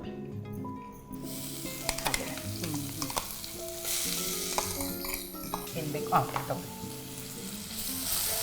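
Ingredients stirred with a wooden spoon in hot oil for a masala chapati filling, with a steady sizzle broken by repeated scraping and clattering strokes close by.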